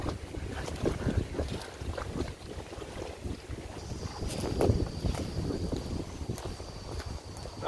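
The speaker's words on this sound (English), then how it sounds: "It's starting to get a bit windy" Gusty wind buffets outdoors, rumbling and roaring in uneven waves, with a faint high whine drifting in later.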